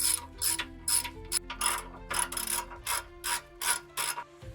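A ratchet clicks in quick repeated bursts, close and clear, while snugging down the sway bar end link bolts on a 2005-2014 Ford Mustang front suspension.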